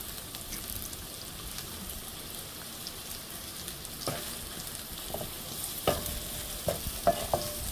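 Onions frying in oil in a pan with salt, a soft continuous sizzle with occasional crackles and light scrapes of stirring, quiet and close, no voices.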